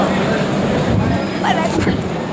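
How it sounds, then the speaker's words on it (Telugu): A train passes near Eluru, making a steady, loud broadband rumble that fills the whole stretch while voices talk faintly underneath. "ట్రైన్ వెళ్ళిపోతుంది."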